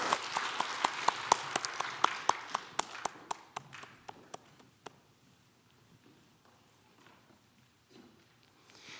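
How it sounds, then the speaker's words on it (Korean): Congregation at a Korean church Sunday worship service in Baltimore: a burst of sharp, distinct claps comes first, then thins into scattered taps that fade out over several seconds, leaving a quiet room. "하나님께 영광의 박수를 올려드리겠습니다"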